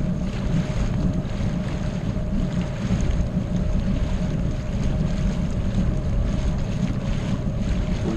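A steady low diesel riverboat engine rumble with constant wind and water noise, droning evenly throughout without pauses, no voices.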